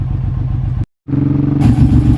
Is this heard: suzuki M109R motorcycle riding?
yes